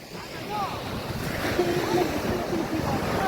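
Strong sea wind buffets the microphone at Candolim beach in Goa while surf washes in steadily, with distant voices and faint calls mixed in.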